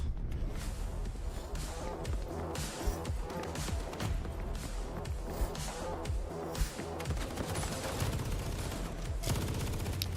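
Light machine gun fire in Rainbow Six Siege rattles almost without a break, a dense stream of rapid shots with sharp cracks and clatter, loud and close, filling the whole stretch.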